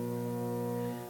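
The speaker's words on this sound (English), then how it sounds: "And you can hear the foghorn going off." Foghorn near a fire station sounding the evening curfew signal; a single deep, sustained harmonic blast holds steady and fairly faint, heard from a distance before tapering off.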